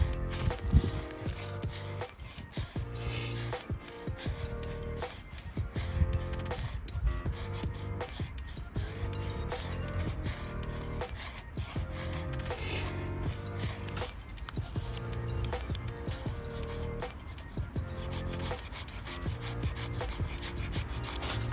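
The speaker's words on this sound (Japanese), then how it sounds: "最初になんか削って粉を落としとくみたいな。" Someone scrapes a ferro rod fire starter in repeated rasping strokes to shave off powder. The gritty, steady rubbing carries on evenly and up close, with no talk over it.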